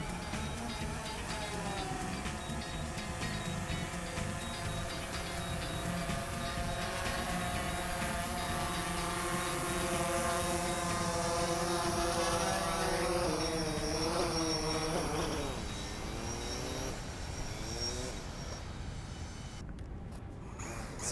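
DJI Mavic Pro quadcopter hovering and flying nearby, a steady high-pitched propeller whine that bends and shifts in pitch as it maneuvers, moderately faint and continuous, with the sound dropping out near the end.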